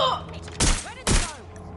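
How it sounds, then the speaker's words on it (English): Two loud, sharp bursts of gunfire about half a second apart in a PS4 shooter game, each a quick crack with a short decaying tail, over quiet game ambience. "They're shooting!"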